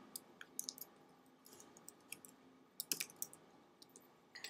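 Computer keyboard typing comes through as scattered light clicks and short clusters of keystrokes, faint and close, in an otherwise quiet room with no speech.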